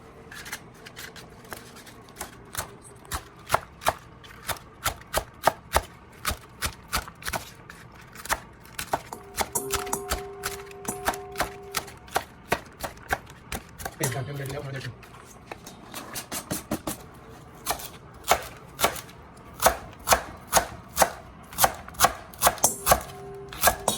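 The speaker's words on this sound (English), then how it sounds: "Professional chopping at its best" A knife chops leeks steadily on a board in fast, regular strokes, with brief pauses and changes in pace, sharp and close throughout.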